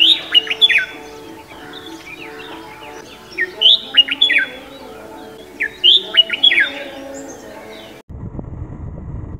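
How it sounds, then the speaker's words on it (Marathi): Several wild birds call in the morning in a coastal village at Gavkhadi, Ratnagiri: bright, sharp chirps and whistles come in repeated bursts over a steady low background, then give way to a dull rumble near the end. "वेगवेगळ्या पक्ष्यांचा आवाज कानावर येतो."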